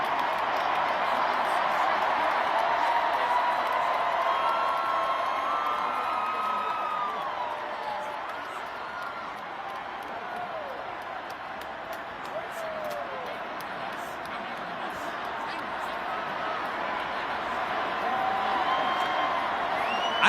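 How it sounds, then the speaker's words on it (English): A sold-out stadium crowd in Toronto roars for the performer, a dense, sustained wash of cheering, whoops and yelling with scattered clapping that swells and dips slightly across the span, loud and continuous with no single voice standing out. "This is the crowd, the sold out stadium crowd, for straight 5 minutes just clapping it up,"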